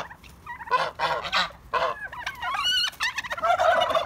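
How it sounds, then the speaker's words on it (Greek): A brown wild turkey gobbles repeatedly while puffing up, rapid throaty bursts of calls close by, followed by higher squeaky fowl notes and a raspy trailing call. "η καφέ η αγριόγαλος τώρα φωνάζει, φουσκώνει και της δείχνει ποιος είναι ο αρχηγός"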